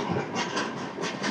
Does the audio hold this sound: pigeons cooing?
no